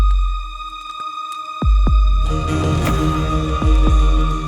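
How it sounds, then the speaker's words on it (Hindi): Deep, booming heartbeat thumps used as a sound effect in a comedy fantasy show, two beats at a time over a humming, ringing backdrop, loud and close with no talking. "ये तो धड़कते हुए दिल की आवाज है।"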